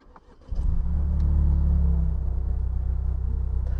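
A 2019 Ford Fiesta ST's three-cylinder engine cranks and fires after a short quiet moment, then settles into a loud, deep, steady exhaust rumble at close range, with no one talking.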